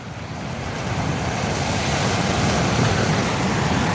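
Steady roar of sea waves washing onto the shore, continuous and loud with wind buffeting the microphone, heard from a sea fishing kayak trip; no voices.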